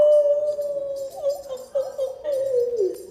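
A person imitating a wolf howl, a long sustained wavering howl that rises and falls, loud and close, with a few breaks and a sliding drop at the end.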